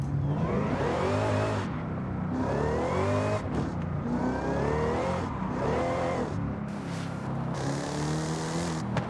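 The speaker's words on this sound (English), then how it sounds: "Even the exhaust sound got a little deeper, or is that just me?" A racing car engine in Forza Horizon 5 revs hard through repeated gear shifts, each pitch climbing then dropping, loud and close with a rough exhaust note.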